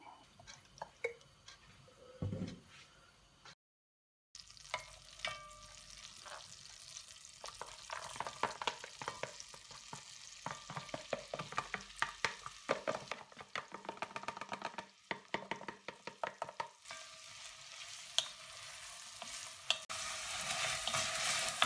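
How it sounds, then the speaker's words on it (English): Onions and apples sizzle and crackle steadily in melted butter in a hot pan, with occasional stirring scrapes and soft drips throughout. "fry off our onions and apples in this melted butter"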